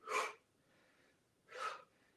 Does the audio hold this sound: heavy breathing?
yes